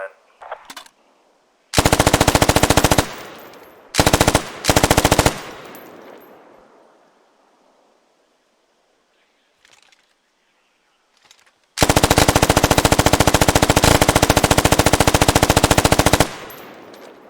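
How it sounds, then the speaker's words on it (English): Machine gun fire in the tactical shooter Squad, carried by automatic riflemen: long, loud sustained bursts alone, with short bursts in between and a quiet gap in the middle before another extended burst. "Automatic riflemen and machine gunners carry a machine gun like this to the field."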